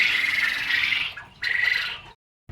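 Quails in a farm coop call in sustained, high-pitched trilling bursts, two long calls separated by a short pause, close and fairly loud.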